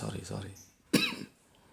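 One sharp cough close by, following a bit of speech, then quiet.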